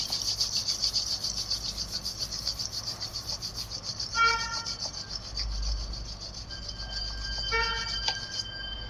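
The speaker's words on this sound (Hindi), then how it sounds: "दोनों हाथों की हथेलियों को रब करेंगे।" Palms of both hands rubbed briskly together during a yoga session, a steady close dry rasping swish lasting several seconds with a few faint tonal sounds behind it.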